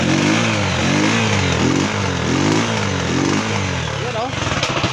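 A stock second-hand motorcycle engine is revved up close in repeated rising and falling bursts about every half second, then settles, with someone talking over it.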